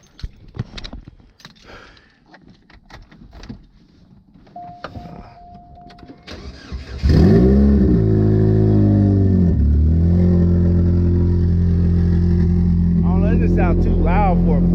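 A four-cylinder Chevrolet Cobalt SS cold-starts after some keys and handling noise: a brief crank, then the engine catches with a loud exhaust flare and settles into a steady, loud, throaty idle that continues to the end.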